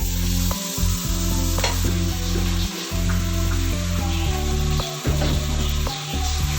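Marinated mutton fries with onions in a karahi, a loud close sizzle running throughout over a low steady hum, with periodic clanks and scrapes of stirring; no talking.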